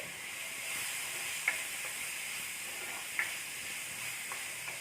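Onion and long-slit green chillies sizzle steadily in a hot pan, a continuous bright frying hiss with a few soft stirring clicks, close and alone with no voices.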